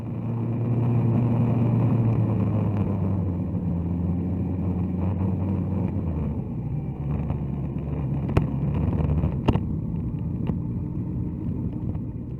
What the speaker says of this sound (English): give him just a little rev bomb as I rode past